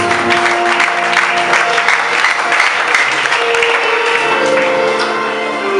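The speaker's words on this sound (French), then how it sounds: "Acclame très fort." A church congregation applauds and cheers loudly, with dense continuous clapping and raised voices filling the room the whole time.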